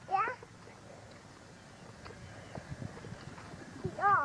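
Soft hoof clip-clops tap irregularly at a distance, with a voice chattering briefly at the start and end.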